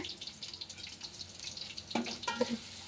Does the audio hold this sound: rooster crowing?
no